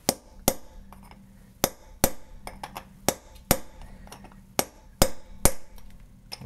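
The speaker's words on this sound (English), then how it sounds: "get your chisel back in there again." A hammer strikes a chisel driven against a wheel lock lug nut, giving sharp metallic clinks about once every half second to a second, close and clear over a quiet background.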